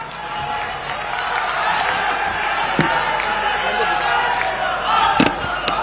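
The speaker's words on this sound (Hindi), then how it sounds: "जोरदार तालियां माननीय राहुल गांधी जी के लिए" Crowd applause and cheering at a political rally for Rahul Gandhi, a steady dense wash of clapping with a few sharp louder bursts over a noisy crowd.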